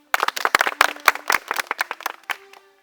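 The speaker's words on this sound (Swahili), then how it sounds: "Pigeni makofi." A small group of people claps at a competition event, a short burst of sharp, close hand claps at uneven rhythm that thins out and stops after about two and a half seconds.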